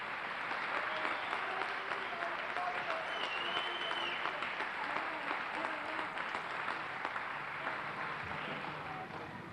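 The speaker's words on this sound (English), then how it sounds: "How about a round of applause for all of them?" An audience applauds a high school jazz band at a jazz festival, sustained, even clapping with a few faint whoops. It sounds fairly distant and quiet, holding steady throughout.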